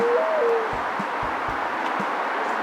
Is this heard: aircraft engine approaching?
no